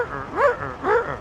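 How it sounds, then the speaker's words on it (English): Aircraft hydraulic pumps recharging on an arriving airliner give two quick, bark-like whooping tones in succession, much like a dog barking, heard fairly clearly over a low background rumble. "It's actually the hydraulic pumps recharging, as far as I'm aware."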